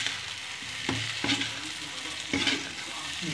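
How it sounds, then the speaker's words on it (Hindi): Chopped potatoes fry in a pan with cooked turmeric, hissing continuously as a spoon stirs them, with a few soft scrapes and knocks against the pan. "अब मैं इसमें डाल दूंगी आलू जो मैंने काट कर रखे थे, और इसे अच्छे से मिक्स कर लूँगी मैं।"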